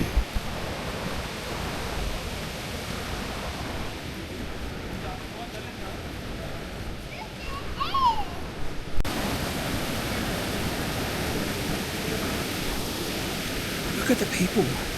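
Waterfall along the Sky Pond trail in Rocky Mountain National Park, a continuous broadband rush of falling water, moderately loud and steady, with voices faintly in the background.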